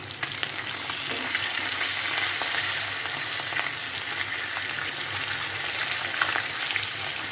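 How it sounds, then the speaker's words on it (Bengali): Pieces of fish fry in hot oil in a pan in a home kitchen, producing a continuous, loud, even sizzle with faint crackles and no voices. "এখন মাছগুলো সুন্দর করে 2 সাইড ভেজে নেব।"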